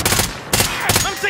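Gunfire in a Call of Duty battle royale match, a few loud, close bursts of rapid shots in quick succession.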